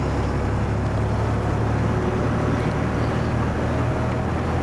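The engine of a 1981 Volvo F12 truck drones steadily and loudly at 2000 revs, with low rumbling and wind buffeting, cruising under load.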